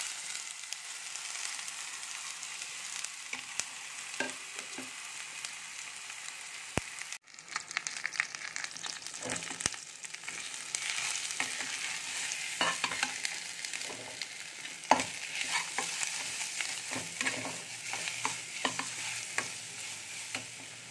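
Dal for a puri filling frying and being stirred in a pan, with a constant soft sizzle and repeated scrapes of a spatula against the pan. A sharp knock breaks in partway through, close and moderately quiet.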